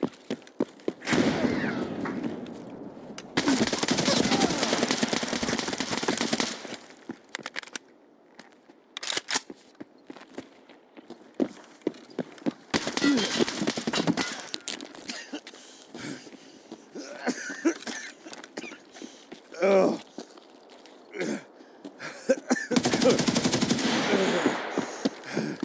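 Bursts of automatic gunfire in the shooter game Escape from Tarkov, heavy sustained volleys at the start, middle and end with sparser single shots and rattles in between, fairly close and loud.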